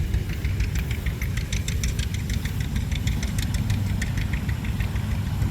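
A Minneapolis Moline four-cylinder tractor engine idles steadily and loudly nearby, a constant low rumble with a rapid knocking beat running unbroken throughout.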